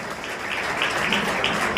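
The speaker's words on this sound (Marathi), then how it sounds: "या माझ्या टीमसाठी एकदा जोरदार टाळ्या होऊन जाऊ द्या." A seated audience at a public talk claps for a team in a short burst of steady, dense applause, with no voices over it.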